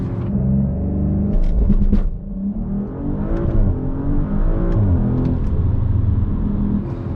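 A 2019 Audi RS5 Sportback launches hard on a wet surface with a little wheel spin, its engine a loud, close rumbling roar that rises in pitch through the gears, with brief shifts in tone as it pulls away.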